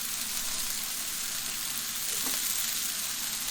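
A large portion of onions fries on burger meat in an Oklahoma onion burger, a steady close hiss and sizzle with a brief faint scrape partway through.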